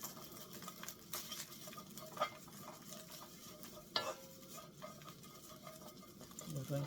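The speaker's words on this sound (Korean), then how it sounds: "애들 뭉치지 않게 그냥 마른 팬에 볶으셔도 되고" Dried shredded squid is stir-fried in a dry pan, a near, soft continuous scraping and stirring with light sizzling and a few sharper clacks of the utensil against the pan.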